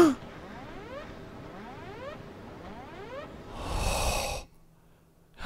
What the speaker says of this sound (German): Er atmet.